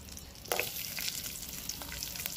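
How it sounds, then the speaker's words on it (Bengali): Long-cut potato sticks dropped into hot oil with black cumin seeds sizzle steadily, a sharp burst of frying near the start settling into a continuous close crackle with small pops. "তারপরে যে লম্বা লম্বা আলুগুলো কেটে রেখেছি, ওই আলুগুলোকে দিয়ে ভাজবো"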